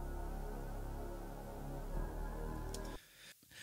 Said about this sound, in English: The verse pad I split into 3. So they sound like this now.